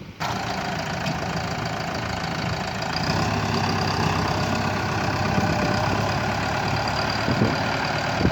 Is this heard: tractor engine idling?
yes